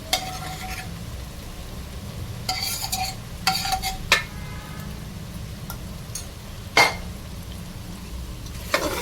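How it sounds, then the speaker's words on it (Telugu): Gongura leaves fry in oil for a chicken curry, a low steady sizzle with occasional scraping stirs and metal clinks of a utensil against the pot, and no talking. "దీన్ని కలుపుకోండి కొద్దిసేపు గోంగూర మీద ఆయిల్లో వేగనిస్తాం"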